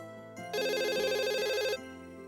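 Telephone ringing with an electronic warbling ringtone, one sustained loud trill burst of about a second over a soft musical background, close and clear with no talk.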